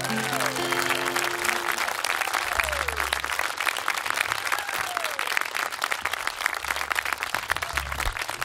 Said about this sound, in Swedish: Men ge dem en riktigt stor applåd